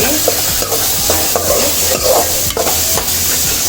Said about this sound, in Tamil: வெங்காயம் தக்காளியெல்லாம் நல்லா வதங்கிடுச்சு.